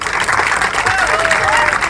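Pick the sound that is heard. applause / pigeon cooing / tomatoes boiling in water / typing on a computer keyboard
applause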